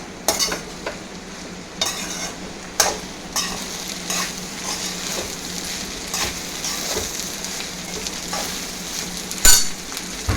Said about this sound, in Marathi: मोठ्या फ्लेमवरती टॉस करून घ्या.